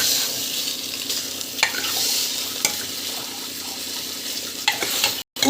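Chopped non-veg meat for a country-chicken curry sautéing in a pan, with a steady close sizzle and frying hiss, a few sharp scrapes of a stirring spoon, and a brief dropout near the end.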